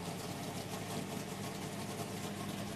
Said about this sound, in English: Team warming up that engine